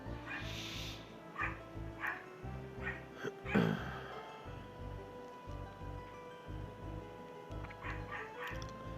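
Dogs bark and whine intermittently, mixed into a looping game soundtrack with a low rhythmic pulse, the barks moderately loud in short clusters with one sharper burst midway.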